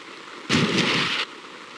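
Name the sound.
rushing river water in Wishbone Activity Zone video game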